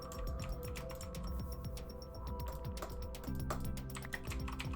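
Rapid close typing on a clicking mechanical keyboard, a dense uneven patter of keystrokes at moderate volume over a low background hum.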